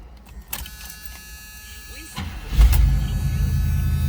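A 1979 Chevrolet Camaro Z28 engine cranks and catches about midway, then settles into a deep, steady idle rumble close by after quieter interior shuffling and a brief whir.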